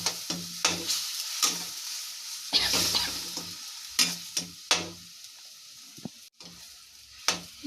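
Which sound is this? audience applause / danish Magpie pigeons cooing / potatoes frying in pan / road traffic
potatoes frying in pan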